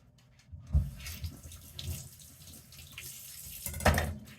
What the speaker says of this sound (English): Gonna add some more hot water to my shrimp over here.